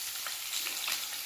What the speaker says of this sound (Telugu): పోపులన్నీ బాగా వేగిన తర్వాత గుమ్మడికాయ ముక్కలు వేసుకోవాలి